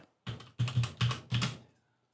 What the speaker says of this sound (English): I'm just typing them as you guys say them.